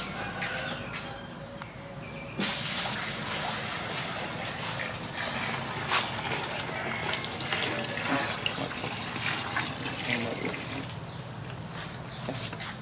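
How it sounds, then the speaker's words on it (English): Water pours and splashes continuously into a container of cow dung for a homemade biogas setup, a loud, close, rushing flow lasting throughout with small knocks and some faint background sounds. "just put some water in here and just pour some water more to merge it"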